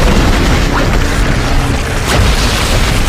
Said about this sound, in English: That way it explodes and does damage.